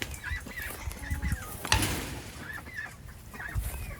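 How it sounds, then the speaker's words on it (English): Chickens cluck and squawk nearby in scattered, overlapping calls, with a sharp rustle or clatter partway through, as they are moved to higher ground ahead of a hurricane. "we're gonna move the chickens up to higher ground"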